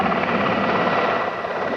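A U.S. AH-1 Cobra attack helicopter flies overhead during the Gulf War ground campaign, its dense rotor and turbine roar loud and continuous throughout.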